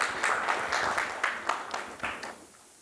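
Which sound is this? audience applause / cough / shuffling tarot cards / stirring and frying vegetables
audience applause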